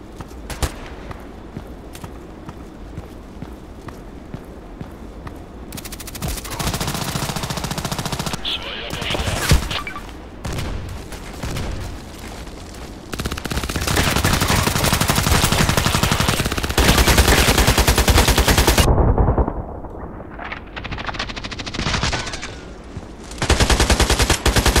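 The Cobra gun in the video game Contract Wars fires in long, loud automatic bursts that cut in and out, with sharp single shots and short gaps of quieter ambience between the strings of fire.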